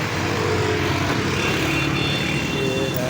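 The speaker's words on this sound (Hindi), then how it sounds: "काफ़ी ज़्यादा ट्रैफिक का शोर है यहाँ पे" Heavy road traffic on Jail Road in Lahore, Pakistan: a dense, continuous roar of engines and passing vehicles, loud and close, with faint horn-like tones drifting through the wash of noise.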